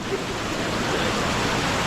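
A clear-water waterfall in the Roha area gives a steady, even roar of falling water, close and continuous throughout, with no distinct breaks.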